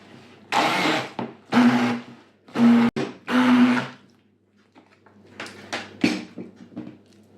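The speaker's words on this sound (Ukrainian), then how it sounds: "І тепер погружним блендером" An electric immersion blender mixing batter whirs in several short bursts separated by brief pauses, followed by quieter scraping and clinking.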